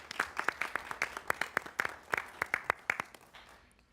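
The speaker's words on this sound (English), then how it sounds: "I really would love for us to give them a round of applause for their work in Palm Beach County" A small group at a county commission board meeting gives a round of applause: distinct, uneven claps close by, in loose bursts that thin out toward the end.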